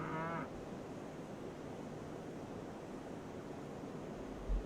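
Cattle being unloaded from a train in the railroad game RailRoads Online give a short moo at the start, followed by a low, steady ambient rumble and a brief thump at the end.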